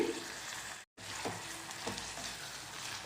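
Fish cooked with raw mango sizzles steadily in a hot pan, with a few soft scrapes of stirring breaking through the continuous frying hiss.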